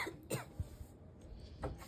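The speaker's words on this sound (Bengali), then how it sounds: "কি হলো রে, কাশি হচ্ছে কেন?" A person coughs close by in a quiet room, a few short, rough bursts spread over under two seconds, with no talking.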